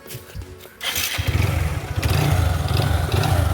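A motorcycle engine is started after a brief quiet lead-in, catching abruptly and settling into a loud, steady, close idle with a rough, throbbing low rumble.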